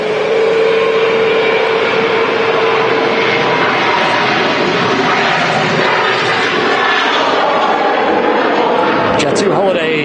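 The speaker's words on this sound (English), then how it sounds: "Jet2 Holidays 737 blasting out of 23 right here at Manchester Airport" Jet2 Holidays Boeing 737 taking off from runway 23 at Manchester Airport, a loud sustained jet roar filling the full ten seconds, with someone talking over it throughout.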